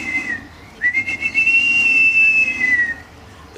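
A man whistles in imitation of a bird of prey, as part of an Aboriginal hunting demonstration on the Gold Coast: a short high note, a pause, then a long sustained piercing whistle that slides gently downward, loud and close.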